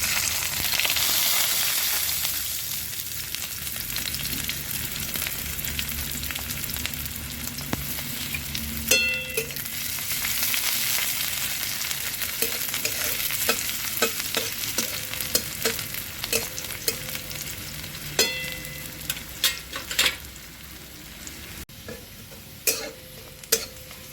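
Onions frying in hot oil in a wok, a strong steady sizzle as they are tossed and stirred, with several clear scrapes and knocks of the utensil against the pan.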